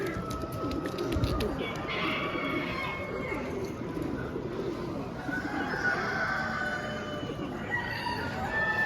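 A large pigeon exhibition hall filled with many birds, giving a busy, continuous chorus of cooing and burbling with scattered fowl-like calls and crowing mixed in.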